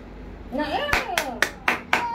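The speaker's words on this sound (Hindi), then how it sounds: "ताली मारो" At a birthday celebration, a voice sings briefly before about five sharp, evenly spaced hand claps ring out close by.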